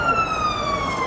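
A street siren wails outside in Washington, its rising and falling tones loud and close across the whole short stretch.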